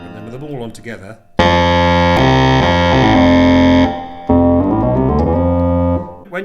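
A Clavioline analog monosynth playing with all its tone settings switched on together, giving a loud, thick buzzing tone in sustained held notes with brief gaps, framed by someone speaking before and after.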